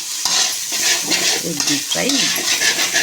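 Egg onion fry being stirred in a pan, a steady sizzle of frying with scraping and stirring strokes throughout, close and fairly loud, with no talk over it.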